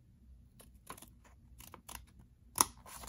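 Scissors snipping paper while making a folded paper F-14 model, a series of sharp, quiet clicks and snips with gaps between them, one crisper cut standing out near the end.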